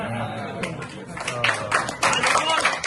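Clapping from guests at a 50th birthday gathering, scattered at first and then swelling into louder, denser claps, with voices talking over it.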